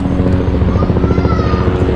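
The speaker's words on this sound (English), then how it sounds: "I got a helicopter coming in." NYPD helicopter flying overhead during outdoor grilling on a Weber kettle, a loud, steady rotor thump with low engine drone, sustained and close throughout.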